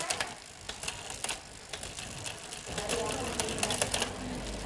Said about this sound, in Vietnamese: Xe trang bị với full group TGR 10 tầng lip, lên lip này.